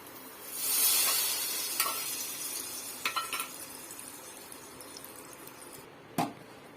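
Fried cashews and raisins go into a pan of jackfruit payasam with a sharp, close sizzle that swells and then slowly fades, followed by a few light clinks of a spoon or utensil against the pan. No one speaks.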